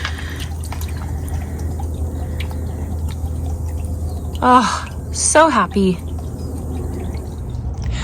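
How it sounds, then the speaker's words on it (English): Water trickles and drips steadily in a newly set up garden fountain, a soft constant flow under brief spoken words, with a few chirping sounds near the end. "I'm so glad I finally have a water feature in my garden"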